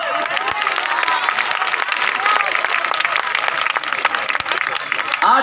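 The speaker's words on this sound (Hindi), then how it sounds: "महफिल में तालियां बजाओ।" An audience at an achievers' stage event in Kanpur claps steadily and densely throughout. A few louder individual claps stand out near the end.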